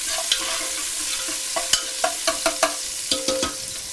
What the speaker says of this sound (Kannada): ಈರುಳ್ಳಿ ಕೂಡ ಚೆನ್ನಾಗಿ ಫ್ರೈ ಆಗಬೇಕು.